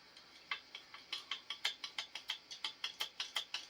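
Hand grease gun pumped on a 1953 Farmall Super C tractor, a regular series of sharp mechanical clicks about five per second, close and clear with no talk.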